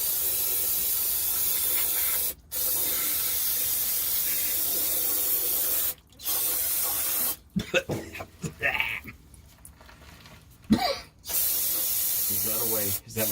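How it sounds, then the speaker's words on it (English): Aerosol cleaner sprayed during an oil change: long, loud, steady hissing blasts separated by brief pauses, then shorter broken spurts mixed with coughing and a few voice sounds. "Hey, don't open your mouth while you're spraying this."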